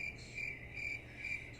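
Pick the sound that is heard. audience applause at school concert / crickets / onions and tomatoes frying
crickets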